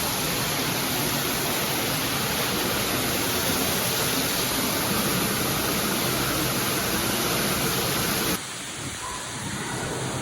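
A giant indoor waterfall at an aquarium entrance roars as a loud, continuous broadband rush of falling water, steady and close, then drops abruptly to a quieter, still-constant hiss near the end.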